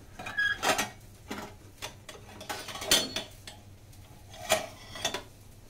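Cutlery is rummaged through in search of a spoon, producing scattered close metallic clinks and rattles in short bursts with quiet gaps between.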